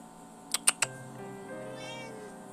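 A house cat gives three quick, close meows in a row, followed by a softer, drawn-out mewing call in a quiet room.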